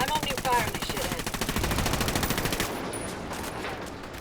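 Rapid automatic gunfire in the Ghost Recon Wildlands video game, a loud sustained burst of rhythmic shots that fades into a lingering echo.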